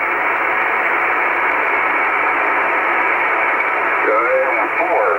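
Receiver static from an Icom 756 Pro in a rural amateur radio station: a steady, loud band of hiss continues throughout, with faint warbling tones near the end.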